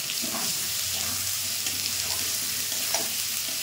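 Chicken pieces fry hard in a pan over a high gas flame, a dense, even sizzle that hisses without pause, close by and moderately loud, with a faint bubbling crackle underneath and no one speaking.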